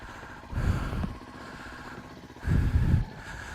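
A motorcycle with a new exhaust idles with a low rumble, then blips its throttle twice in deep, throaty bursts from the nearby exhaust.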